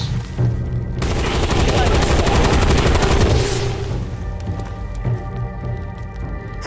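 Close, loud gunfire in the video game XCOM 2: a heavy sustained volley of about three seconds that tapers into a few scattered, quieter shots and a low rumble.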